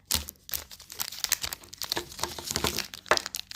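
Mr Beast Feastables chocolate bar wrapper being torn open and crumpled up close, a busy run of crinkles and sharp tearing bursts that continue for several seconds with no talking.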